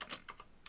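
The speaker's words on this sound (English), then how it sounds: "I can type one in." A brief burst of typing on a computer keyboard, several soft close keystrokes in quick succession, faint and alone.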